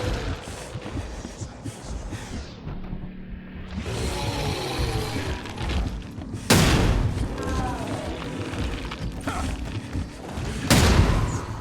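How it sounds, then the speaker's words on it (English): A grenade goes off in the video game The Sinking City, heavy booming blasts landing in several loud bursts with rumbling tails, while a voice talks over the action. "Let's toss a grenade at him."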